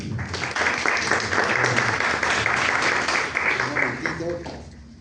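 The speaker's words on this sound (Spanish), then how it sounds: "recibamos con un fuerte aplauso al doctor Miguel Alcántara" An audience claps loudly to welcome Dr. Miguel Alcántara at a talk, dense applause rising quickly and holding steady before fading near the end.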